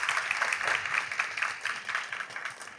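Applause at the close of a conference session, a fairly faint patter of many hands clapping at a steady density for a few seconds, heard from a distance with no voices over it.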